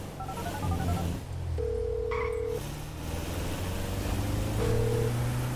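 A cell phone being dialed inside the video game GTA V: a few short electronic beeps and longer tones over a low engine rumble and game ambience, with no talking.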